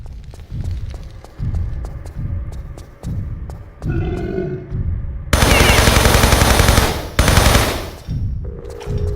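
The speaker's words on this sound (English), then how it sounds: "Cool sounding gun." Machine-gun fire in the video game Tomb Raider III rattles in loud repeated bursts, with heavy grunting, roaring bursts and a long dense barrage of blasts in the middle, then a final shorter volley.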